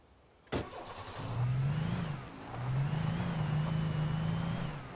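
A sharp click, then a car engine turns over and hums steadily, rising and easing in pitch as it revs, fairly loud and close.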